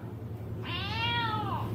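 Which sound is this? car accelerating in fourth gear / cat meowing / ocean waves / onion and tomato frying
cat meowing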